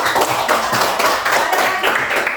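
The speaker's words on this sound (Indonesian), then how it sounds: "Kita tepuk tangan dulu ya." Classroom of students clapping hands together after a lesson presentation, a loud, dense burst of many hands with a slightly rhythmic pulse, close and filling the room with no talk over it.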